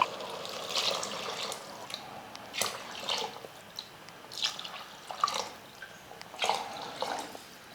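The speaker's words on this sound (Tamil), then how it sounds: "இப்போ நாலு ஆழாக்கு தண்ணி சேர்த்துக்கிறேன்" Water being poured into rice in a pot for tomato rice, heard as soft intermittent splashes and trickles in short bursts, close and fairly quiet.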